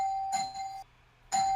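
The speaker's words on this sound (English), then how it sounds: "That's a doorbell." A doorbell chimes twice, clear and fairly close, with a bright two-tone ding-dong, then a short silent gap before the chime starts again.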